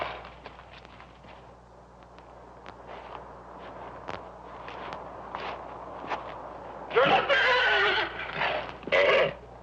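A horse whinnies loudly twice near the end, after a stretch of soft shuffling hoof and ground noises outdoors.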